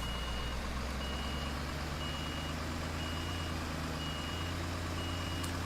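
Steady reverse-alarm beeps from a truck backing up in the Construction Simulator 2015 video game, pulsing at an even rhythm over a loud, constant engine drone.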